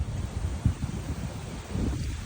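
Gusty wind buffets the microphone with low rumbling bursts on a hiking trail up to the Peak in Hong Kong, steady and fairly loud throughout.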